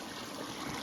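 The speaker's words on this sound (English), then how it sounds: "this pipe is siphoning water out of a spring up in the mountain" Spring water piped down from a mountain spring in Gros Morne National Park pours steadily from the pipe into a stream, a continuous close rushing trickle with no other sounds.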